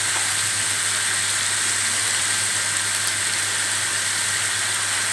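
Potatoes frying in a pan for sabudana khichdi give a steady, loud hiss and sizzle that runs unbroken from start to finish, close by and with no talking over it.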